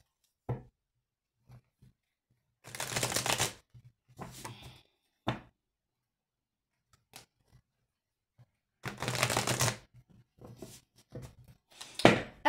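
Oracle cards being shuffled by hand in two longer riffling bursts, with scattered soft taps and knocks between them. The sounds are close and quiet against an otherwise silent room.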